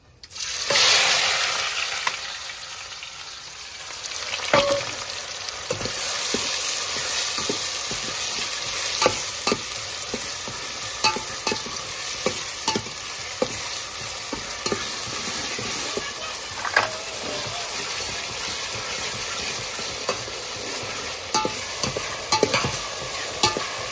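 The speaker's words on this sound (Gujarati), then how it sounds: "તો આપણો મસાલો બધો તળાઈ જશે" Masala spices fry in oil for mutton curry, sizzling steadily while a spoon stirs and scrapes the pan with frequent clinks and scrapes, heard up close over a continuous bed of frying.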